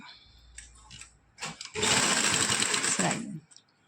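Sewing machine stitching the neckline facing of a kameez, a steady loud run of close rapid stitching lasting under two seconds, preceded by brief handling clicks and faint talk.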